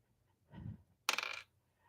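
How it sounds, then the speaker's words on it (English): Dice are rolled during a tarot reading chat: a soft muffled tumble, then a brief sharp clattering rattle as they land, all close and fairly quiet with no talking. "Let's roll the dice again."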